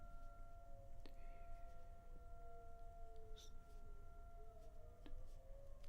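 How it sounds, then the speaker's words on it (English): Faint sirens wail outside at a distance, long steady tones drifting slightly in pitch over a low background rumble, with a couple of brief clicks. "There's a lot of sirens going on outside."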